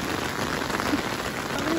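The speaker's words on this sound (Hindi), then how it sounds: "बारिश हो रही है। हम लोग बारिश में ही वॉक करने निकल गए हैं" Rain falling outdoors in Tirthan Valley, Jibhi, a dense, even patter of drops on surfaces, steady and fairly close throughout the short stretch.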